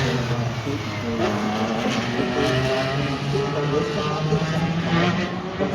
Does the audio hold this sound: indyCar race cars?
yes